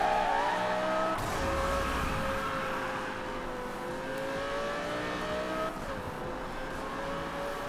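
Race car in Need for Speed Rivals, a sustained high engine whine with shifting pitch and a steady rushing roar of tires, with a brief gear change or skid, loud and continuous.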